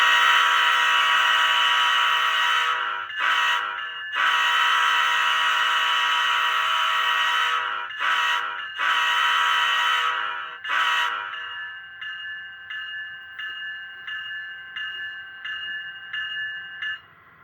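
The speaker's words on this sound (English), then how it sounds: "So here's the horn." A loud, harmonically rich horn from a scale model ET44AC locomotive sounds in long blasts broken by short gaps, then shifts to a quieter, thinner pulsing tone near the end.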